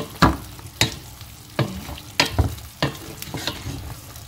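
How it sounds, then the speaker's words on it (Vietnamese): Braised pork with coconut being stirred in a hot pan, with sizzling and frying and a series of sharp scraping stirs roughly every half second, loud and close, with no talking. "Các bạn đảo một chút này."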